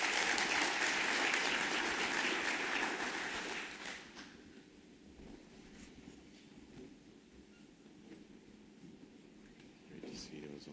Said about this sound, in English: So a round of applause for the panelists that I'll be talking to.